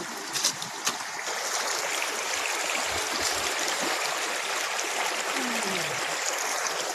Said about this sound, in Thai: เรากั้นจากทางนู้นนะครับเพื่อจะเอาน้ำไหลมาทางนี้ แล้วก็ลงไปทางนี้นะครับ